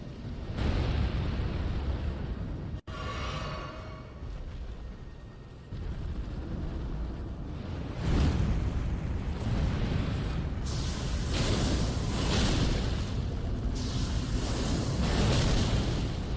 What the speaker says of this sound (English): He breathes fire! He breathes fire!